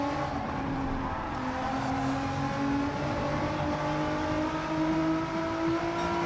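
Gr.4 Evo race car in Gran Turismo 7, fitted with a swapped engine, holds a loud, steady high-revving note with rising harmonics under load, running continuously and close up with no talk.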